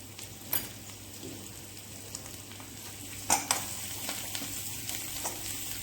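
Garam masala and Kashmiri chili sautéing in a pan for a mirchi vada potato filling: a steady, soft frying hiss with occasional light stirring clicks and scrapes. There is no talking.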